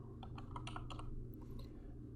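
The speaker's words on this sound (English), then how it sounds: "Let's start to type spine" Quick, light keystrokes on a computer keyboard tap out a short word at close range in a quiet room, a brief run of clicks that trails off.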